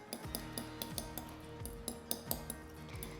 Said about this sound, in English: Now we'll mash with a fork.